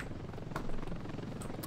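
A helicopter in Ravenfield gives a steady rotor chop and engine drone, loud and close, continuous throughout the short stretch with no talk.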